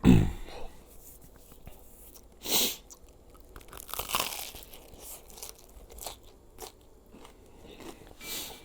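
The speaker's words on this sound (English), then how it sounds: "Ready for this crunch?" Loud crunchy bites into an air-fried grilled cheese sandwich browned in a Cosori TurboBlaze air fryer: a sharp first bite, then scattered crackling chews and crisp crunches spread over several seconds, close to the mic and without talking.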